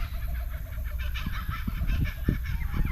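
Loud, repeated honking bird calls on Fraser Island, Australia, sounding from somewhere off at a distance, overlapping and irregular over steady outdoor background noise.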